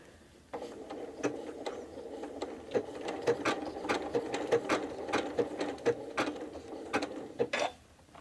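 A sewing machine stitches appliqué slowly around a curve on a flower block, giving a close mechanical chatter of rapid needle strokes broken by short pauses and restarts, with a sharp click as it stops.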